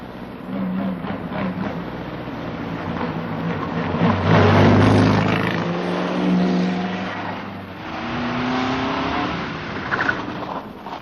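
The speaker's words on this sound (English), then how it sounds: "A 1936 Bugatti, and believe me, it goes" A 1936 Bugatti racing car drives at the Brooklands circuit, its engine loud and close, revving and surging through rising and falling gear changes as it accelerates past, a strong continuous roar with no talk.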